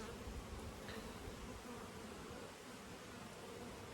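Honey bees from a laying-worker colony swarm around an open hive, giving a dense, steady, close buzz with no pauses and no voices.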